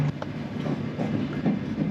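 A high-speed train runs at 174 km/h as it arrives at Brescia, heard from inside as a steady, loud low rumble with faint rhythmic rail clatter and no voices.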